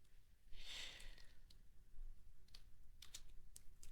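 Faint typing of code on a computer keyboard, a few scattered key clicks over a low background hum, with no talking.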